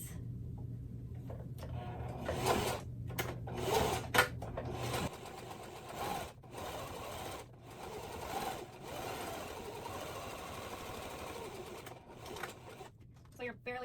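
A sewing machine stitches a tote bag at a 7/8 seam allowance, a steady motor hum in the first five seconds giving way to rustling fabric handling and softer stitching bursts, with talk over parts of it.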